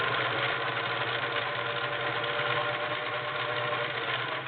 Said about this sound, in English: It's not the quietest machine, but it is a nice runner.